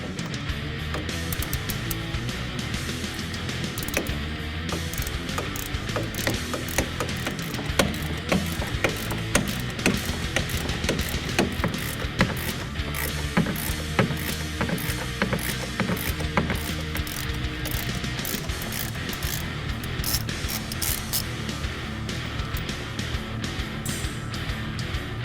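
Ratchet wrench clicking steadily as it backs out the four bolts holding a drum brake backing plate on a 1965-1966 Ford Mustang six-cylinder, with busy mechanical ticking and clatter throughout.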